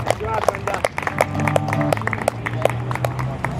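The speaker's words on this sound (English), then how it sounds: "Let's give Brenda a nice round of applause out there." Scattered clapping from a modest crowd at a childhood cancer awareness gathering, with sharp individual claps standing out irregularly over background chatter and a sustained musical tone.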